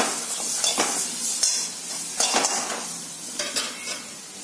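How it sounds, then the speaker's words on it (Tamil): Crushed black pepper, cumin, garlic and a pinch of asafoetida sizzle in hot oil for rasam, with a steady crackling fry punctuated by scraping spoon strokes and clinks against the pan. "லைட்டாக ஒரு ஃப்ரை பண்ணுவேன்."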